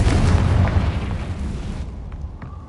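A Confringo fire spell blast in Hogwarts Legacy, heard as a loud, broad explosive roar that rumbles heavily at first and then thins out into a fading crackle. A small burst pops near the end.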